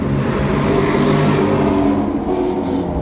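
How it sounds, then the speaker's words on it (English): A Lexus race car with a naturally aspirated V8 roars loudly and continuously at a street circuit, the engine note steady and dense before easing slightly at the end. "even the 500, the Lexus, so nice, natural aspirated V8"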